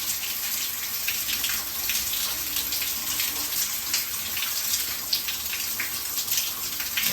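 Water streams steadily from a hot water shower tap in a West Perth home, a continuous broadband hiss and splash with no pauses, close and fairly loud throughout.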